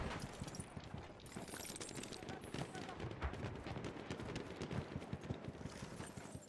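A horse gallops in Battlefield 1, rapid hoofbeats buried in a dense din of gunfire and battle noise, with voices underneath the steady combat clamor.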